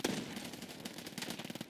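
Rapid automatic Vector gunfire in the video game Escape From Tarkov, a short burst of fast repeating shots sounding fairly faint and distant, with no talk over it.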